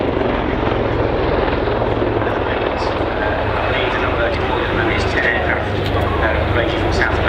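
A Royal Navy Lynx helicopter of the Black Cats display team flies at the Waddington Airshow, its loud, steady rotor and engine roar continuing throughout while a commentator talks over it.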